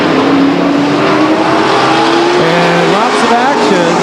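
Race cars roaring around the track at Stockton 99 Speedway, a loud dense engine drone with shifting pitches as several cars run close together, a commentator talking over the noise throughout.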